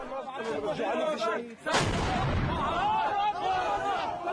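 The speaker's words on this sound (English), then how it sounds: "Incoming ordnance explodes nearby." An incoming shell explodes nearby on a battlefield near Aleppo, Syria, a single sudden loud blast cutting through voices and chatter from rebel fighters, followed by continued talk and shouting.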